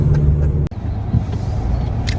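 A car rolls to a stop in a home driveway after a long road trip, its steady low engine rumble filling the clip, broken by a brief dropout near the start, with faint rattles above.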